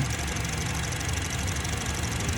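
A Honda City 1.5 automatic with about 88,000 miles idles steadily, a smooth, even engine hum heard up close with no talking over it.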